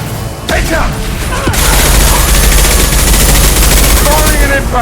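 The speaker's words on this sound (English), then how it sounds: "Firing an impact shot!" Loud, close, sustained gunfire from a Mass Effect firefight runs as a dense, continuous rattle of rapid shots with booming impacts, and voices call out over the shooting.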